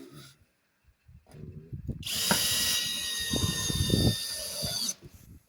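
A power drill drives screws with a short whirring burst, surrounded by close knocks, handling clatter and brief talk.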